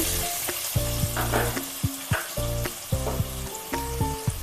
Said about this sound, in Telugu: ఇప్పుడు ఉల్లిపాయలు బాగా దోరగా ఫ్రై అవ్వాలి